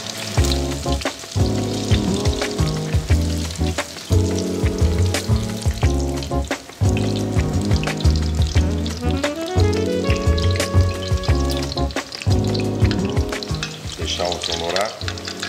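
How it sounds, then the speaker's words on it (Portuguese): Black scabbardfish fillets fry in a pan with a loud, constant sizzle and crackle. It carries on steadily without a break, with occasional clinks and stirring noises and no voices. "Vamos fritar."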